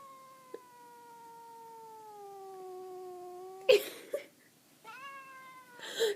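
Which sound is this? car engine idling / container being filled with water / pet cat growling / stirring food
pet cat growling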